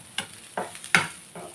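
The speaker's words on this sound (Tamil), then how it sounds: "ஃப்ரை பண்ணணும். ஃபுல்லாக ஃப்ரை பண்ணக்கூடாது." Onions frying and being stirred in a pan, four short scraping bursts of sizzle spaced about a beat apart, close and fairly quiet with no voices.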